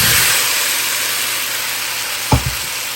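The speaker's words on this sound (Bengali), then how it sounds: "এবার এই ভেজে রাখা আলুগুলো দিয়ে দিই" Fried potatoes drop into spiced masala bubbling in hot oil, a loud constant sizzle broken by a couple of soft low thuds near the end, with no talking.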